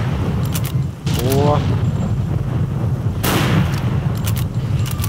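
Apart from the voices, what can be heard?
rifle gunshots in the video game S.T.A.L.K.E.R. Call of Pripyat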